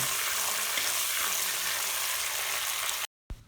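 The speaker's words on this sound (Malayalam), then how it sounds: "അതിലേക്ക് വലിയ ജീരകം ഉലുവ കറിവേക്കുക ഒക്കെ വൺ ബൈ വൺ ആയിട്ട് ഇട്ട് കൊടുത്തിട്ട് ഒന്ന് വഴറ്റിയെടുക്കുക" Fennel seeds, fenugreek and curry leaves sauté in hot coconut oil for a Kerala beef roast, giving a steady loud sizzle that runs evenly throughout before cutting off abruptly near the end.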